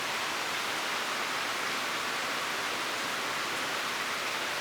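A steady wash of rain falls during a thunderstorm in southeastern Pennsylvania, a dense, uniform hiss that holds at the same level from start to finish with nothing else audible.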